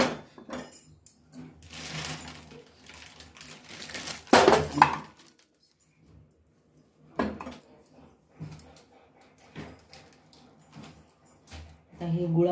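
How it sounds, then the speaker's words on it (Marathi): Pieces of jaggery clatter into melted ghee in a cooking pan, giving scattered clinks and knocks of varying loudness with a sharp burst near the middle, while someone talks in between. "आता हे गुळ टाकणार आहे"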